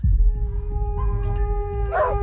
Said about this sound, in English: Dogs howl constantly.